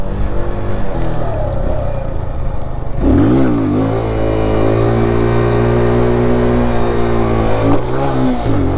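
A motorcycle engine holds a steady, loud drone at a stunt lot during a long wheelie. The pitch dips and climbs around the midpoint, then settles into a sustained high rev without voices.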